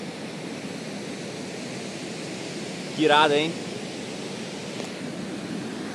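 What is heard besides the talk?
waterfall, water falling, Cachoeira Almécegas, Chapada dos Veadeiros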